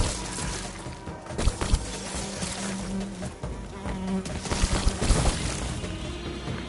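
Swarming wasps buzz steadily after their nests are disturbed in the Possession 3 video game, a dense insect drone with loud swells and sharp hits layered over game music.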